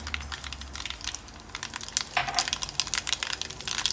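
Mustard seeds crackle and pop in hot oil in a pan, a scatter of sharp, irregular little bursts that grow busier toward the end, fairly quiet and close.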